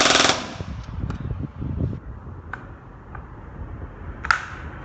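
Kriss Vector electric airsoft gun fires a short, dense automatic burst at the start, followed by scattered sharp clicks and mechanical ticks against a quiet background.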